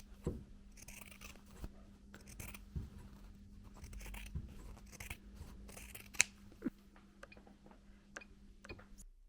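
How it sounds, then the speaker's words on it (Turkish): Scissors trimming excess edges from fabric on a homemade bookmark pencil case: quiet, scattered snips and rustles over a faint steady hum, close and soft. "kenar kısımlardaki fazlalıkları kesip"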